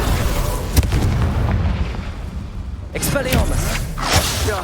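Confringo blasting spells explode in Hogwarts Legacy combat, loud, rumbling bursts that come close together in a dense, continuous barrage, with sharper cracks near the end.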